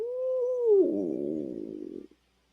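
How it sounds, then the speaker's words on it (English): Close by indoors, a dog gives a drawn-out whining, howl-like note that turns into a rough, rumbling growl for about a second before it stops abruptly. "my dog's barking at something."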